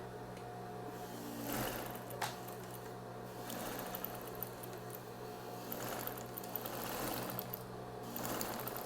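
A sewing machine stitches a fabric bathroom set in a steady, close mechanical hum and patter, with slightly louder surges every few seconds and no speech.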